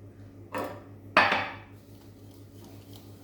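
Banana cake batter with sugar and vanilla is stirred in a bowl, giving two distinct spoon-against-bowl knocks and a soft scraping tail over quiet background hum.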